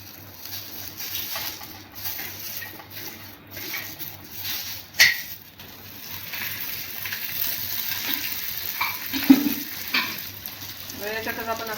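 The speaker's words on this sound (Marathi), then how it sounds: "आता याला आपण तव्यावर टाकून फोडून घ्यायचा." A roasted onion is broken up and stirred on a hot tava griddle, giving irregular scraping, tapping and soft sizzling at close range, with one sharper knock partway through.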